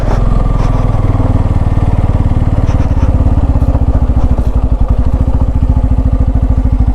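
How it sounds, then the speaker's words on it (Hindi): Motorcycles rumbling loud and close on a mountain road, a steady throbbing engine drone with a rapid putter that grows denser partway through, no talking. "ये बाइकर वापस आ रहे हैं"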